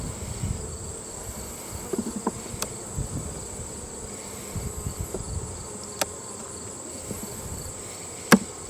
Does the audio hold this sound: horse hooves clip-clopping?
no